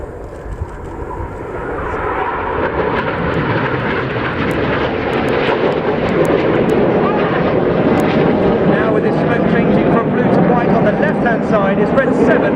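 Red Arrows jets fly in an airshow display at Scampton, their engines making a loud, rushing roar that swells and stays strong while a commentator talks over the public address.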